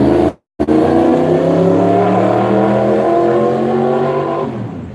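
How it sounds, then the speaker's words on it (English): A loud motorcycle roars past close by, a steady engine drone with rising and falling harmonics that holds for several seconds before easing slightly as it moves away; no one speaks. "There goes that loud ass motorcycle."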